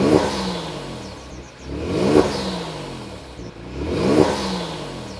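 A Genesis G70 fitted with a downpipe and intake revs during a cold start, rising and falling in three loud, raspy surges with a gritty mechanical edge and no talk.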